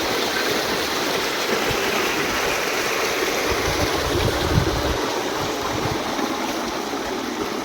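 Water runs from a tap in a steady, unbroken rush for the whole stretch, close and fairly loud, with no voices over it.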